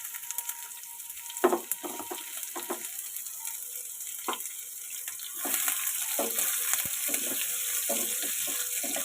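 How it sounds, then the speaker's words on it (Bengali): Chopped onion and cumin fry in hot oil, giving a low hiss broken by scattered clicks and stirring knocks. The sizzle swells louder and denser partway through, close by, with no talking. "পেঁয়াজটা আমি হালকা ভেজে নেবো"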